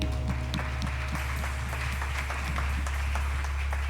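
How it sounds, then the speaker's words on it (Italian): Applause from a church congregation at a thanksgiving service in Verona, steady and moderate over a constant low hum, with no talk over it. "Possiamo fare un grande applauso al Signore?"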